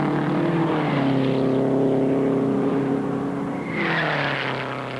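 Race cars at the 1960 Indianapolis 500, a loud close engine drone with a pitch that sags and then climbs again as a car passes, sustained and steady throughout with no talk.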